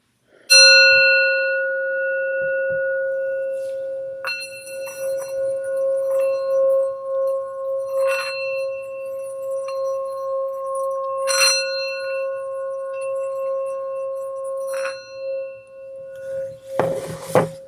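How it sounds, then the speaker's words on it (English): A sound bowl struck several times, each strike blooming into a long sustained ringing tone that overlaps the last, close and clear, ending in a brief rattling clatter, with no speech. "We'll bring the sound bowl, call in spirit, and do the thing."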